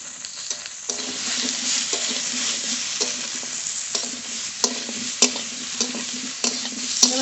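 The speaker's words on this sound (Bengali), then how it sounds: "সামান্য একটু ভাজা ভাজা করে নেবো ঝিঙেগুলো" Ridge gourd sizzles in a pan with softened potatoes, turmeric and salt, a soft steady frying hiss broken by sharp clicks of a spatula stirring against the pan.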